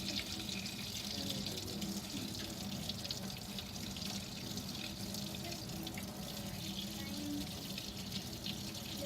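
Hot water running steadily from a sink tap into a basin, a constant close splashing rush that fills the whole stretch with no pauses.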